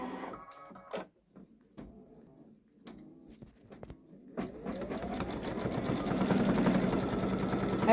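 A Babylock Solaris embroidery machine starts up and stitches out an edge-to-edge quilting design, its fast steady needle clatter growing louder and denser after a few quiet clicks and handling noises at the start.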